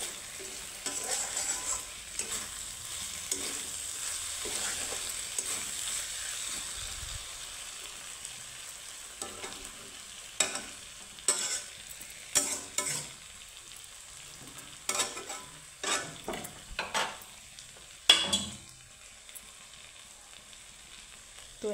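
Food sizzles in a pan for moong dal, a soft steady frying hiss with bursts of stirring and scraping clatter that grow more frequent in the second half, close and fairly quiet.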